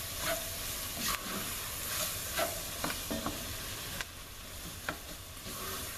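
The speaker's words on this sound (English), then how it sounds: "I'm going to just stir this until everything gets nice and soft" Shrimp étouffée is stirred in a cast iron pot. A utensil scrapes and clacks against the iron in irregular strokes over a steady sizzle and hiss of cooking, heard up close with no talking.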